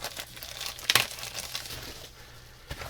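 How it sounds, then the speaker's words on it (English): Cellophane wrapper crinkles and crackles as it is pulled off a cardboard magazine holder, close and quiet, with a few sharper rustling bursts. "We'll take it out of the cellophane here."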